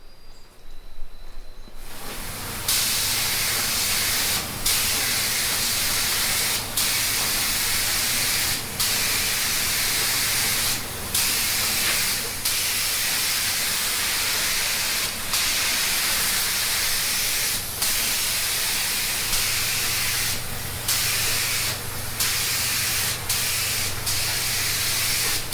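Rustoleum paint hisses steadily from a spray nozzle, a loud, continuous close-up spray broken by several brief pauses between passes.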